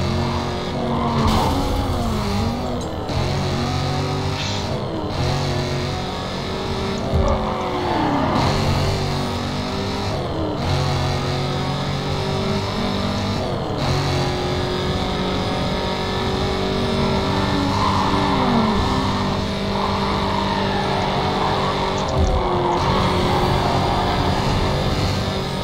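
Race car engine from the game NFS Carbon, a Dodge Challenger, roaring and revving continuously at high volume, with pitch rising and dropping through repeated gear shifts over the whole stretch.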